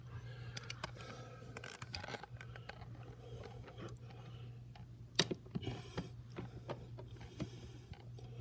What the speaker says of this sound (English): Then we place our plate over top, take our small flat screws.